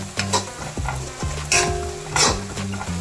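Sizzling spices, onion, ginger, green chili and garlic fry in a pan for a thattukada-style dish, with repeated scraping stirs of a spoon against the metal, close and lively.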